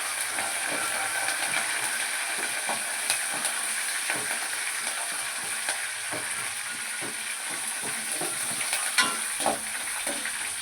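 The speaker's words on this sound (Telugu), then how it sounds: "కరివేపాకు, పల్లీలు, జీడిపప్పు ఇవన్నీ చూడండి ఫ్రెండ్స్ చక్కగా ఫ్రై అయినాయి." Curry leaves, peanuts and cashews fry in a pan for an Indian-style millet upma, giving a steady, close sizzle with scattered crackles and pops and no voices.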